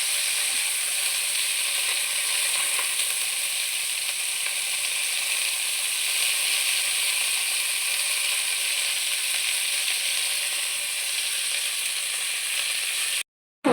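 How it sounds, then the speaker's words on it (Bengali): Cauliflower dusted with turmeric fries lightly in hot oil, giving a steady, even sizzle that runs close and unbroken for the whole stretch before cutting off abruptly at the end. "এবারে একটু এটা হালকা ভাজা ভাজা করে তুলে রাখবো"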